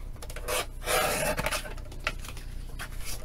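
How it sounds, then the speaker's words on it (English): Paper being trimmed for a floral envelope mini album, short rasping cuts and rubbing strokes close up, in uneven bursts with no speech. "just trim that off"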